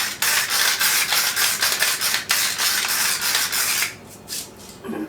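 A ratchet pepper grinder cracks pepper over seasoned potatoes in a pot, making a steady close gritty rasp with quick ratcheting pulses that stops after about four seconds.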